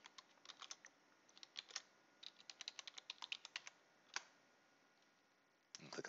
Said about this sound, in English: Enter the password.